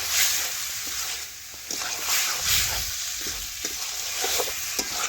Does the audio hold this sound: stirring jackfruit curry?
yes